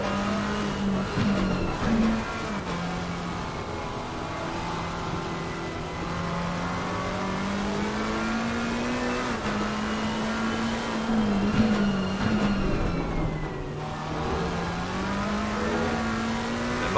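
GT3 race cars lapping the Hungaroring in a sim racing game, a continuous engine whine rising and falling through gears and corners, with other cars' engines layered in at moderate loudness and no talk.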